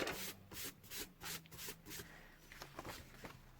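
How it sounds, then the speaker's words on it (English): Rubbing strokes of a burnishing tool pressing down a glued paper flap on a handmade card-stock slider box, a close run of quick scraping passes with short pauses, no voice. "We'll give it a burnish just to make sure it's all stuck well"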